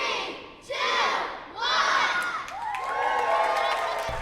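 A big crowd of children and adults cheers and shouts at an elementary school ribbon-cutting in bursts of high-pitched whoops and screams, swelling again after a brief dip.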